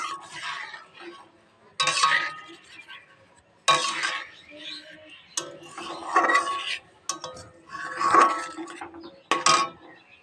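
Soaked sago is stirred in a pot for a milky sago pudding. Irregular bursts of scraping and clinking of a spoon against the pot come every second or two, separated by quiet gaps.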